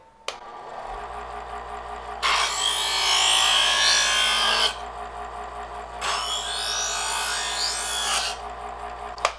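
A knife blade is drawn across a metal grinder in two long, loud rasping passes, each lasting a couple of seconds, with a low motor hum beneath and short pauses between.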